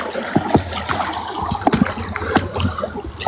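Splashing footsteps wading through a shallow stream on a hot day, a few irregular sloshes and trickles close by with steady running water underneath.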